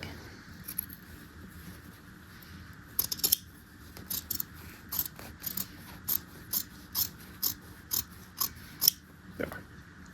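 Scissors cut through a wool and canvas undercollar, with a regular series of crisp close snips after a quiet start.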